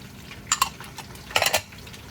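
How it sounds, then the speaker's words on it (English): A utensil stirs oil, sugars and pepper flakes in a pan for orange chicken, two short bursts of scraping clinks over a faint background, close and brief with no voices. "We'll stir. Let that cook for a second."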